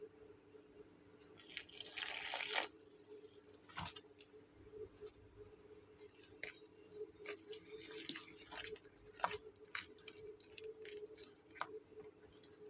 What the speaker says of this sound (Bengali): এবার দিয়ে নেব নর্মাল পানি।